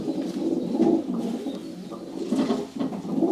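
A Van Loon racing cock pigeon coos close by in repeated low, throaty rolling phrases. The bubbling cooing runs almost continuously, rising and falling in soft swells, with no speech.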